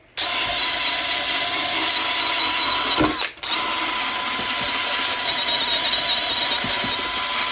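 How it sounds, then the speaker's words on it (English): A power tool scuffs a leather saddle ground seat block, giving a loud, steady whirring drone that cuts out briefly around the middle and then carries on, close up and alone. "Go ahead and scuff it up."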